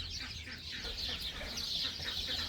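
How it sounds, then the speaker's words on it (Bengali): Native roosters and hens cluck in a steady chorus on a poultry farm in Saudi Arabia over a constant low hum, with bird calls scattered throughout. "তো দেখেন, এটা হচ্ছে দেশি মোরগ"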